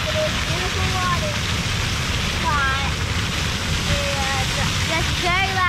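Loud, steady rushing water from a waterfall or fountain fills the scene with a dense continuous roar, while faint bird chirps sound intermittently over it.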